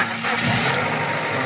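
A Suzuki APV's engine cranks and catches, settling into a loud, steady idle close by, with no voices over it.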